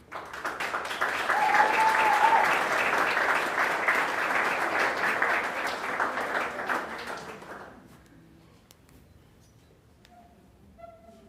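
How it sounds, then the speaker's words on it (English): Sustained crowd applause fills an awards ceremony for marina Blue Flag honours, steady and dense for about eight seconds before thinning out to scattered quiet sounds. "Round of applause."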